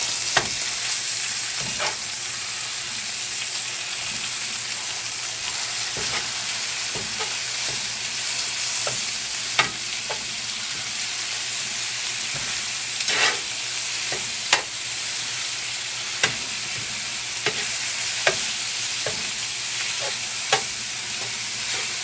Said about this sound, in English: I'm going to add in about a medium white onion. And then we're just going to break this up.